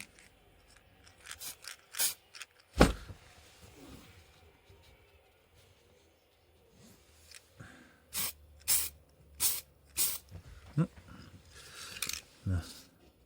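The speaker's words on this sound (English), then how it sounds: "Just give it a light spray." Paint is sprayed lightly onto a model goods shed in a series of quiet, short hissing bursts, scattered at first and then coming in quicker succession toward the end.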